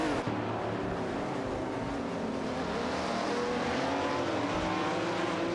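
Race cars on the track in a racing video game, including models like a Plymouth GTX 67, with a steady engine drone and whine as cars jostle for position, sustained and fairly loud.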